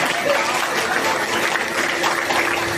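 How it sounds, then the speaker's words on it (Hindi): Audience applause at a BJP Delhi Pradesh event, dense steady clapping from a crowd that fills the whole stretch without a break, loud and close. "जोरदार ताली रामधन जी के लिए बजेगा,"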